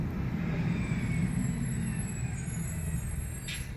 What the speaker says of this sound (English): Just a garbage truck going around a corner.